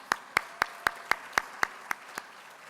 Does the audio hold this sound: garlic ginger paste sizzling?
no